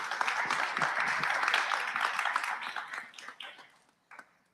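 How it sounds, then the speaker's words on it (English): A seminar audience gives a round of applause to welcome a guest speaker, steady and full for about three seconds before thinning into scattered claps and a last brief burst. "Please give a round of applause for Laurent Dubois."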